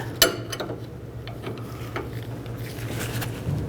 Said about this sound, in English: Now we'll tighten up this jam nut.